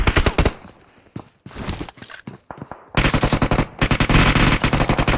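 Rapid machine gun bursts ring out in a shooter video game, a loud stretch of fire at the start, then scattered shots, then sustained heavy automatic fire through the end, with no talk.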